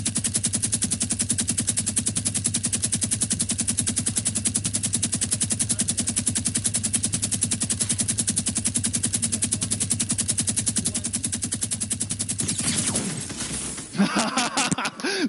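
Sustained rapid automatic gunfire from a battle royale video game, a dense, steady hammering burst lasting about twelve seconds, then breaking off into scattered sound effects.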